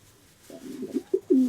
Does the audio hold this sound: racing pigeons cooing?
yes